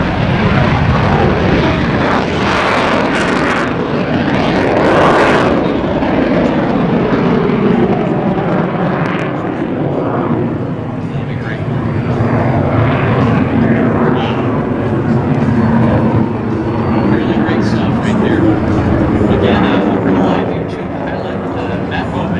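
A U-2 Dragon Lady jet performs a touch-and-go and low flybys at the MCAS Miramar Airshow, its loud sustained engine roar swelling and fading as it passes, with voices talking over it throughout.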